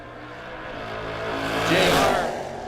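A 1980 Camaro race car roars past on a drag strip, its engine note swelling to a peak and then easing off as it passes, heard alone without talk.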